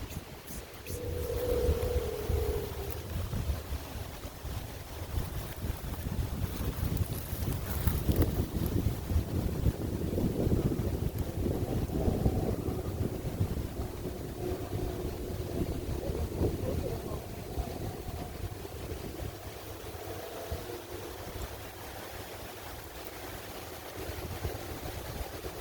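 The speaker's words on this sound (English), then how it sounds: "the wind's blowing a little bit" Wind blows hard across a dam lake, a steady rumbling roar buffeting the microphone for the whole stretch, with faint voices and background sounds mixed in.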